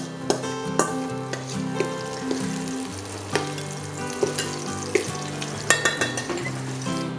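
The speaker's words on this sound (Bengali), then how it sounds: "পেঁয়াজটা বেশ কিছুটা ভাজা হয়ে গিয়েছে" Onion frying in a pan for dahi aloo crackles with a strong, continuous sizzle, broken by sharp clinks and scrapes of stirring, over background music.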